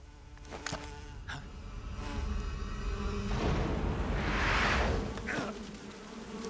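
A swarm of bees buzzes in the stealth video game Metal Gear Solid 3 Snake Eater HD. The dense, droning hum swells to a loud peak in the middle and then eases off, with a few sharp clicks and no speech.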